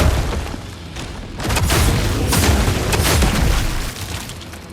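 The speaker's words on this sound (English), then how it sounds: "we will just mag dump with the shotgun" A shotgun is emptied in quick succession in a video game, dense booming blasts running together into a loud, rumbling barrage that swells in the middle and tapers slightly at the end.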